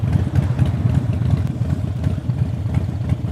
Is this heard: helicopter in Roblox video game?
no